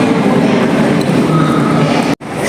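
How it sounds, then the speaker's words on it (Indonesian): An airport terminal shuttle train ride: a steady loud rumble of rolling wheels and motor hum inside the carriage, with a brief cut near the end, no talk. "sekarang kita naik kereta ke terminal yang departure"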